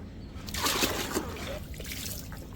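Water trickles and splashes as it is poured over a newborn during a bath, a soft, close splashing burst that rises and then fades, with faint household voices in the background.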